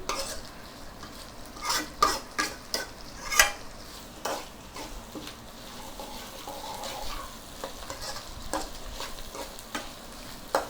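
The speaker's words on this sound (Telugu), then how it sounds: "ఉల్లిగడ్డ, పచ్చిమిరపకాయలు ఆయిల్లో పెట్టుకుందాం" Onions and green chillies frying in oil for a bitter gourd curry, a soft low sizzle broken by sharp spoon clinks and scraping stirs against the pan, a few louder knocks early on.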